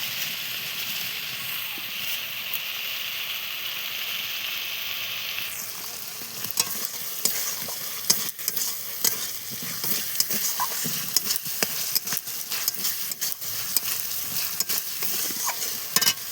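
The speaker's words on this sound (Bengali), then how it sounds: "এঁচোড়টা দিয়ে এইভাবে কষতে থাকবো" Young jackfruit sizzles as it is stirred and sautéed in a hot pan, with a steady frying hiss and irregular scraping clatters of the spoon against the pan.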